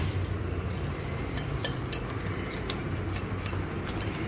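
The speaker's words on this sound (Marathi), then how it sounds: "10 ते 12 मिनिटांसाठी आपण अशा प्रकारे हे मिश्रण फेटून घ्यायचं" Gram flour batter for potato bhaji is whisked in a bowl with quick, light tapping clinks over a steady low background hum, close but quiet, with no talking.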